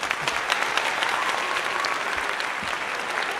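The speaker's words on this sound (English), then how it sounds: "Let's give him a round of applause for" A crowd applauds steadily, dense even clapping throughout with no break.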